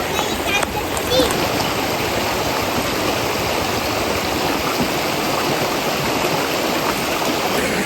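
A clean, cold river at Batu Kurau rushes and splashes continuously nearby, a dense, steady wash of flowing water with a brief faint voice early on.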